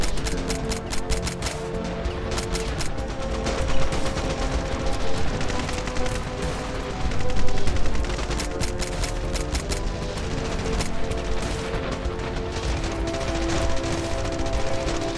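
Gunfire in the video game Ravenfield, dense continuous bursts of automatic fire with sharp rapid shots and occasional heavier bangs, loud and sustained throughout.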